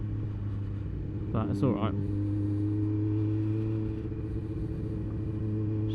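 Motorcycle riding along a bumpy, dirty farmer's lane, its steady engine rumble continuous throughout, with a brief clatter and someone speaking briefly over it.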